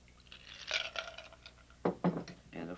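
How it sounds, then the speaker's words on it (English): Cocktail poured from a shaker through a strainer into a chilled cocktail glass, a few soft splashing bursts with faint glassy clinks, quiet and close, with no talking. "And fill the glass."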